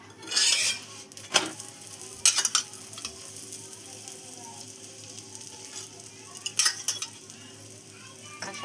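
Puran poli flatbread on a hot griddle gives a steady soft sizzle, with a few sharp metallic scrapes and clinks of a utensil against the pan, close and clear.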